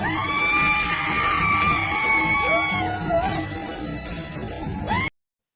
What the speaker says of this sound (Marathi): जल्लोष तर तुम्ही बघूच शकता आमचा